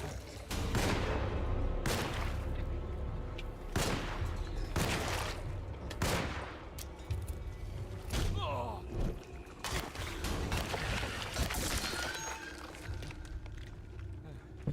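Repeated bursts of video game gunfire from a fight in a Stranger Things–themed game, loud broadband cracks arriving every couple of seconds over a steady background, with voices and game sounds in between.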